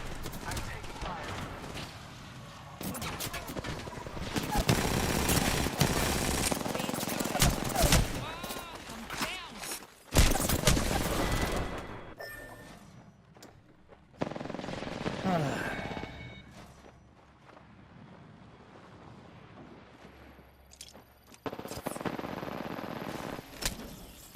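Rapid bursts of gunfire and impacts during a sci-fi shooter video game firefight, dense and loud for long stretches with brief lulls, with a player talking over the action.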